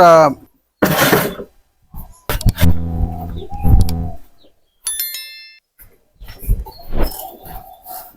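Pet pigeons cooing in their loft at morning feeding time, with low throaty coos in short bursts between louder clatters, a bright metallic ring and scattered noises nearby.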